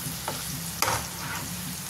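Soaked chana dal bhaji frying in hot oil, a steady close crackling sizzle with a couple of sharper bursts as pieces are stirred, no voices.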